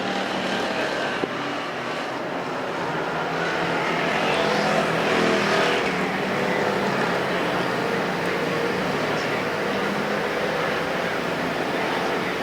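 Continuous roaring engines of factory stock race cars at speed on a dirt track at Perris Auto Speedway, a dense steady drone that swells slightly as cars pass, with no talk over it.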